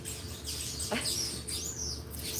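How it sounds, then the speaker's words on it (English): Small birds chirp faintly in the distance, giving a few quick, scattered tweets over a soft, steady background hiss. "They're even telling you. The birds are saying it."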